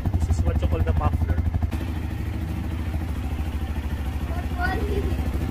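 Benelli big bike motorcycle idling at a dealership in Baguio, a steady pulsing engine throb close by, with people talking over it.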